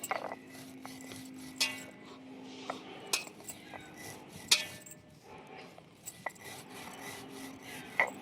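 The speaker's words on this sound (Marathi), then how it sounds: "राय थोडी थोडी घेऊन मी तिचं बारीक आबड दोबड तिला वाटून घेते" Mustard seeds being coarsely ground by hand in a kitchen for pickle, giving soft scraping and rasping grinds with scattered sharp clinks of metal, quiet and close, with irregular pauses.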